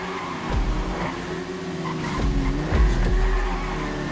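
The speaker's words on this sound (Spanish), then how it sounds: "Yo me he estampado contra la pared." A car in GTA Online slams into a wall amid engine revving and tire squeal, with several sharp impacts and skids over steady loud motor noise, no voices.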